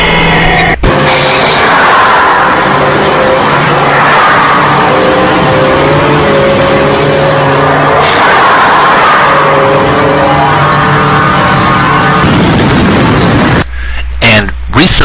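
Tron-style light cycle race effects, loud continuous droning engine whines with rising and falling pitch sweeps like racing vehicles, filling the whole stretch before a brief burst of different sound near the end.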